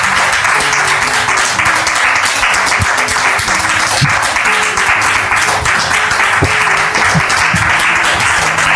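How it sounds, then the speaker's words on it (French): A television studio audience applauds steadily and loudly for a couple being welcomed onstage, a dense wash of clapping that carries on without a break for the whole stretch. "Merci de les recevoir sous vos applaudissements"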